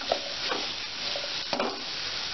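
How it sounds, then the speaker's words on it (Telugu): Onions and green chillies fry in a pan with a steady soft sizzle and occasional light stirring scrapes, fairly quiet and continuous with no voices. "ఉల్లిపాయలు వేగడం కోసం మనం కొంచెం ఉప్పు, కొంచెం పసుపు వేసి కలర్ వచ్చే వరకు వేయించుకున్నాం."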